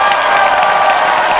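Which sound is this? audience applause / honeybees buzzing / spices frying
audience applause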